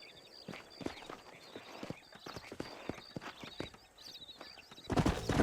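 Horse hooves clip-clopping in the video game Red Dead Redemption, a steady walking rhythm of distinct hoof thuds at moderate distance, ending in a louder burst of movement.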